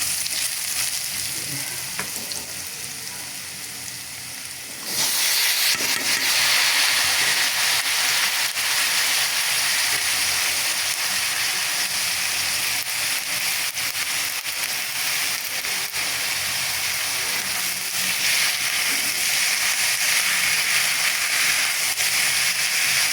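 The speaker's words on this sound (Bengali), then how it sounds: "আলুটা এখন একটু ভাজা ভাজা হচ্ছে" Potatoes fry in a pan with a steady, close sizzle that jumps louder after a few seconds and then holds an even, hissing crackle throughout, with no talking.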